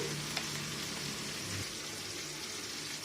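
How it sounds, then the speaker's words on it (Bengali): A spoon stirs custard powder into lukewarm milk, making a steady, close, soft swishing and scraping that continues without pause. "এই যে কাস্টার্ড পাউডারটা গুলে নেব"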